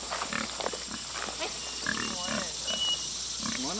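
Pigs on a farm squeal and grunt in short, rising calls as someone comes by, the cries rising over steady background noise and a constant high-pitched hum.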